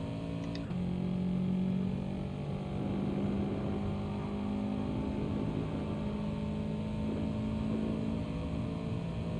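A race car engine in the video game GT Sport at the Nürburgring GP circuit, a continuous droning engine note holding steady with little change in pitch, alone without talk and moderately loud throughout.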